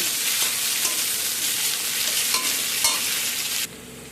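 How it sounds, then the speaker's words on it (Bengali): Chopped onion and capsicum sizzle loudly in a pan while being stirred, with occasional utensil scrapes, before the frying noise drops off abruptly near the end. "পেঁয়াজ আর ক্যাপসিকাম ভাজা ভাজা হয়েছে"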